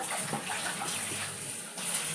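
Galangal root being washed under running water, a steady splashing gush close by, with no voices.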